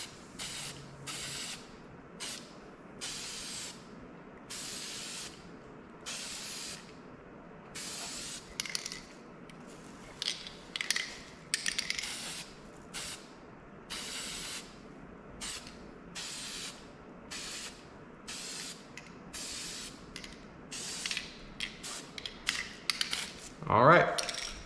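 A spray paint can lays a heavier second coat onto an RC car body, with many short hissing bursts in a loose rhythm of about one to two seconds each, close and moderately loud, and some faint handling clicks between sprays.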